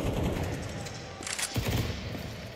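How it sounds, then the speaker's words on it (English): Gunfire comes through smoke in a Counter-Strike 2 major semifinal match between NAVI and G2, heard as dense, rapid bursts of shots with sharp cracks layered over a constant busy game and crowd backdrop. "It's Hootsie through the smoke, spamming away"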